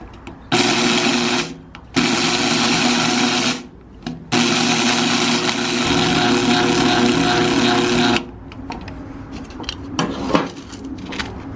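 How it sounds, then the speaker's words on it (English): A home coffee grinder crushes hard oyster shells in three loud bursts: a short whir, a pause, another short whir, then a long sustained grind, each stopping abruptly, followed by faint rattling and handling noises. "Cross your fingers that I don't break my husband's coffee grinder."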